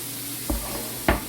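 Vegetables and onions going into a hot skillet with about two tablespoons of oil for chicken fajitas, giving a steady close sizzle under two sharp stirring scrapes.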